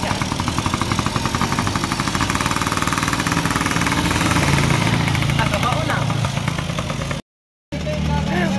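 A Yamaha PW50 motorcycle engine putters at idle close by, a steady rapid two-stroke chatter running throughout, with voices talking over it and a brief dropout near the end.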